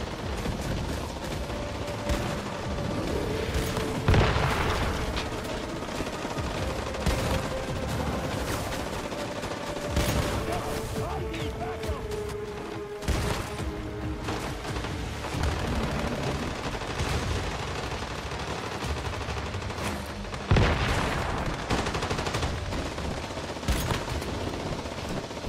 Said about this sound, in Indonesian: Pakai shotgun berasa.